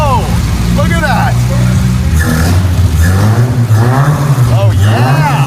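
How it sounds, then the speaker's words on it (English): A 1970s Ford LTD station wagon project car cranks and fires up, its engine settling into a loud, rough idle with rising revs, heard close up while excited voices talk and shout over it. "Let's start the car."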